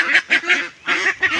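Farm ducks, about nineteen kept for weight gain, give loud, close, repeated nasal quacks and honks in quick bursts with a brief pause in the middle.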